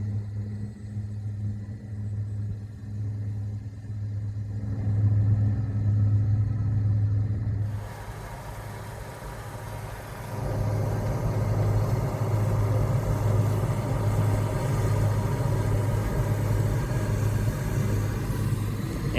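A combine with a MacDon FD75 header harvests lodged oats, its engine rumbling steadily from inside the cab with a broader mechanical roar swelling partway through.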